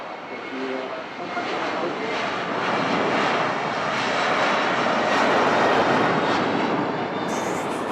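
A jet aircraft at Manchester Airport passes with a loud, broad engine roar that swells and holds steady, heard from nearby outdoors.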